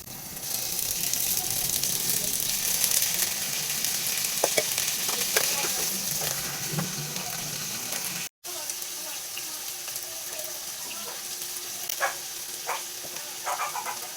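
Chicken valenciana ingredients sautéing in a pan, a steady close sizzle and fry with occasional stirring clicks and scrapes, continuous throughout with a brief cut near the middle.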